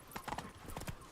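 Hooves of Roach, a horse in The Witcher 3, clip-clop in a quick uneven patter of close, distinct hits over a brief stretch with no talk.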